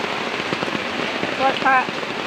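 Heavy rain pours down steadily in a continuous close hiss, with a brief faint tonal sound partway through.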